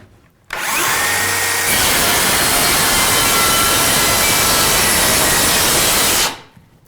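A Dewalt 60V worm drive circular saw spins up and cuts through 1.5 inches of pine, a loud, close, continuous whine and rasp lasting several seconds before it stops abruptly.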